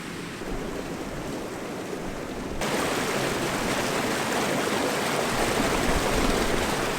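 A river on Dartmoor, swollen after heavy overnight rain, rushes and flows close by in a steady broadband roar, growing fuller and louder partway through.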